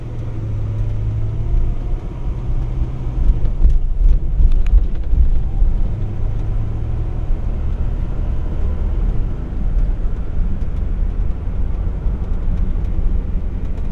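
A 1960 Pontiac Catalina barn find on its first run of the season makes a loud, steady engine drone and road rumble from inside the car as it drives, with a brief rise in revs partway through.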